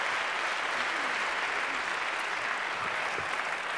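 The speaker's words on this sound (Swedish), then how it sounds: "en stor applåd för kören" A televised song contest audience gives the choir a loud, steady round of applause. The dense clapping holds at an even level throughout, with no voices over it.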